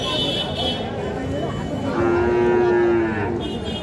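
A bull lets out a long, loud moo at the Fasiladanga cattle market in Dinajpur, standing out over murmuring crowd noise and background chatter.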